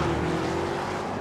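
A Porsche Cayenne Turbo and a Mercedes-AMG G63 launch hard off the line in a drag race, a loud sustained engine drone with a steady tonal roar, heard briefly with no talk.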